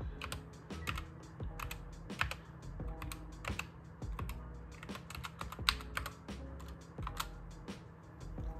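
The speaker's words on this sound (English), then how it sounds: "So I'm typing my password right now." Someone types a password on a PC computer keyboard, a quick series of crisp close key clicks in short irregular bursts, with no talking over it.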